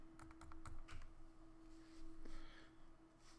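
Typing on a computer keyboard, with quick light key taps in a burst, then softer irregular tapping under a faint steady hum.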